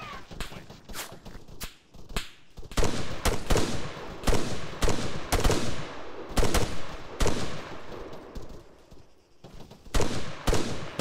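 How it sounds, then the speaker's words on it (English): Heavy machine gun fire in the tactical shooter Task Force 88: loud close bursts of rapid cracking shots repeat throughout, with sharp whip-like snaps and brief gaps between volleys. "I hear a heavy machine gun left"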